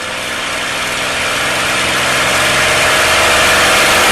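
A P-51 Mustang's piston engine roars steadily close by, its pitch and power slowly rising as it runs up to 2300 RPM, with no talking.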